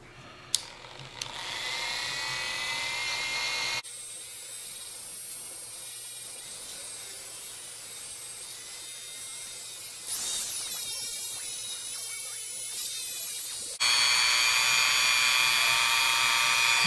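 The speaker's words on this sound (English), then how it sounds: "Now, I'm going to take this bit out and go to a side cutting bit." Rotary tool fitted with a side cutting bit enlarging a hole in the plastic grip of a Victorinox Ranger multitool: high whining buzz in bursts separated by quieter stretches, close and continuous, with no talking.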